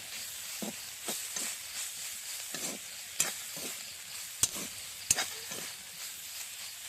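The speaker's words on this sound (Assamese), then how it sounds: "অকণ ৰঙাকৈ ভাজি লওঁ।" Soybean chunks fry in a pan over a village wood fire until reddish, a steady soft sizzle broken by scraping stirs and a few sharp clicks of the utensil against the pan.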